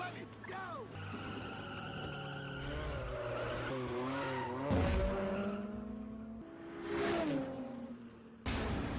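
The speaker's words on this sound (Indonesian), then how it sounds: "Mobil Letty terjungkal" A car skids with squealing tires and tumbles over in a Fast and Furious action scene, long rising and falling squeals and engine whooshes broken by heavy impacts, with film music and voices mixed in.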